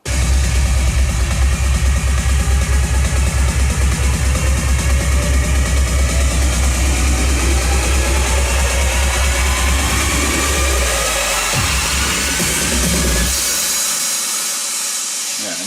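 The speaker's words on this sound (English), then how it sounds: "there are some other risings and effects, swooshes, sounds" Electronic transition effects for a dance track: a dense, loud wash of rising sweeps and swooshing noise over a pulsing low beat, building steadily for about thirteen seconds before cutting off abruptly into near silence.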